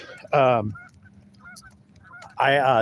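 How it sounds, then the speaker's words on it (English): Geese or ducks at a park honk close by, two loud drawn-out honks separated by quieter calls and faint background noise. "We're hanging out with the ducks at this beautiful park in Strangeville."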